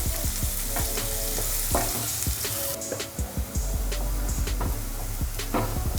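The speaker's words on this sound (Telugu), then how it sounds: "ఆయిల్ హీట్ అయింది కదా, సన్నగా తరిగి పెట్టుకున్న 2 పెద్ద ఉల్లిపాయ ముక్కలు." Two large thinly chopped onions fry in hot oil for a Telangana-style chana masala, with a loud, steady sizzle and occasional stirring clatters from a spoon in the pan.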